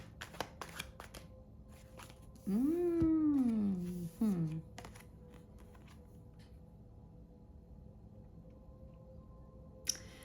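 Tarot cards are shuffled and drawn with soft, scattered papery clicks and riffles. A cat meows loudly in the middle, and a sharp tap comes near the end.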